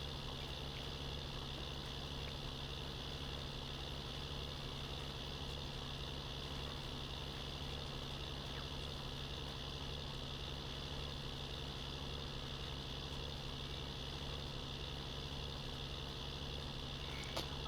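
A tractor engine in a farming video game runs at a steady, constant drone with no change in pitch, faint and continuous throughout.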